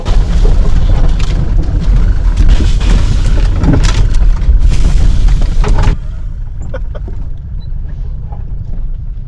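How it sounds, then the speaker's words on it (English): Two car tires bursting on a rough overland trail through trees near a lake, a loud, dense burst of roaring noise that cuts off abruptly, leaving quieter rattling and scattered knocks. "I just popped not one but two tires"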